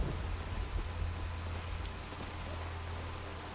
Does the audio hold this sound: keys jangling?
no